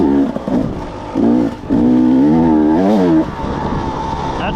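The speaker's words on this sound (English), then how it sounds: "That's the thing about dirt bikes, you can get boogieing on these things." A dirt bike runs along a trail in Mio, Michigan, its loud engine revving up and down in close, rising and falling pulls that hold steady before easing off.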